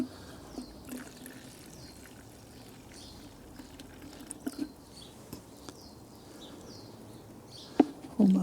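Bilt Hamber Auto Foam snow foam concentrate poured into a measuring container, a faint, steady liquid trickle with small patters and clinks, close by and heard alone.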